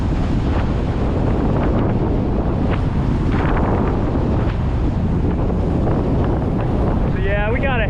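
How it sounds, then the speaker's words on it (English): A headwind buffets a cyclist's microphone on an uphill rural Texas road, a loud, continuous roar of wind noise. A brief voice comes in near the end. "So yeah, we got a headwind"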